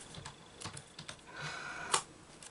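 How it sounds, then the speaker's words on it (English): Soft, scattered computer-keyboard keystrokes tapped at an irregular pace, quiet and close, with one sharper click near the end and no talking. "I'm typing as well."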